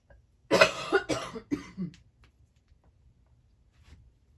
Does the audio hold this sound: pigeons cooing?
no